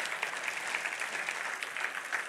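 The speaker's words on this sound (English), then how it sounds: "Give Brad a big round of applause." Church audience applauding steadily, a dense and fairly distant wash of clapping that holds even throughout, with no voices standing out.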